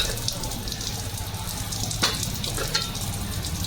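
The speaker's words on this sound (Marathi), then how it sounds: "आता त्याच्यात मसाले टाकायचे." Spices added to egg curry gravy fry in hot oil, giving a close, dense sizzle with a couple of sharp spoon taps against the pan, steady throughout and without speech.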